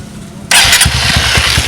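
A Honda CRF150L motorcycle engine cranks and fires up abruptly after a brief quiet, settling straight into a loud, close, throbbing idle with a rapid, even pulse.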